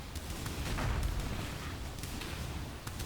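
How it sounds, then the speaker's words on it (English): Spell explosions from a poison Impending Doom Elementalist build with Awakened Spell Cascade in Path of Exile: a dense run of soft, muffled booms and crackles, with brief sharper bursts recurring across a steady wash of game noise. "you can clearly hear 3 explosions happening per cast"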